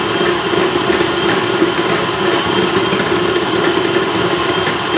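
A food processor mixes cake dough with orange blossom water and toasted sesame seeds, giving off a steady, loud motor whir with a constant high whine, close and unbroken.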